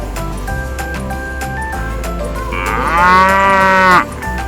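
On a farm, a cow lets out one loud, drawn-out moo close by after a few seconds of quieter background rumble.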